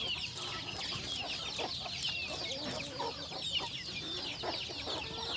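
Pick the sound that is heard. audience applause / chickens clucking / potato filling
chickens clucking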